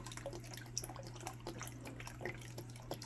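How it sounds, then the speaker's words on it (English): Beef broth poured from a container into a pot of chili, a steady liquid splash and trickle with soft drips throughout, close and continuous under a low electrical hum. "Just top off with the 2nd container of beef broth."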